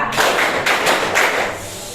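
A classroom of students claps a rhythmic pattern together, with several sharp, evenly spaced group claps close by, then a softer fading wash.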